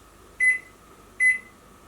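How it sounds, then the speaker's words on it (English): A Panasonic NN-ST45KW microwave oven sounds two short electronic beeps as cooking of jacket potatoes finishes, evenly spaced and fairly clear over a faint background hum. "So we're just waiting for the buzzer to go."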